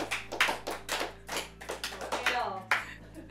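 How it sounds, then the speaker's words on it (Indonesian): Sparse, uneven hand clapping from an audience on an Indonesian talk show, a scattering of separate claps that never builds into full applause, with a faint steady hum beneath. "Oh, ragu banget tepuk tangannya."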